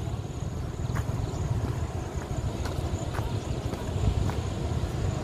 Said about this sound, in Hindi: झरने का आवाज़ आ रही होगी आप लोगों को